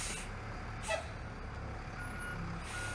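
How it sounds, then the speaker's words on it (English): Bus sound in the horror video game Mirror Mirror: a steady low vehicle rumble with a short hiss like an air brake and a faint high beep near the end, heard alone against the game's background ambience. "I hear a bus."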